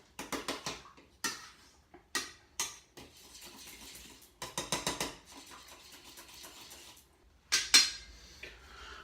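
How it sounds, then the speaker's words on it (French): A spoon stirring yeast into hot water in a bowl, heard as repeated scraping clinks against the bowl in short bursts with quiet gaps between, close and clear with no talk. "vous allez mélanger votre levure à votre eau bien chaude. Voilà, vous mélangez jusqu'à temps qu'il n'y ait plus de petits grains"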